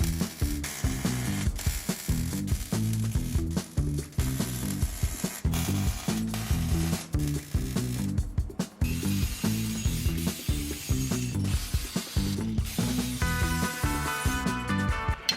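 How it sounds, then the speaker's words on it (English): Welding the front exhaust pipe on a Shovelhead motorcycle gives off a continuous crackling, buzzing sizzle that pulses rapidly and stays close and steady throughout, with no speech. "Now I'm gonna go ahead and finish the welding."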